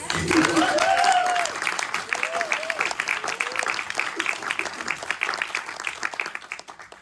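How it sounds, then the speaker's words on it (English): An audience claps at a private film screening in Beverly Hills, a burst of applause that is strongest at first and then thins out, with a voice speaking over it. "And applause, yes?"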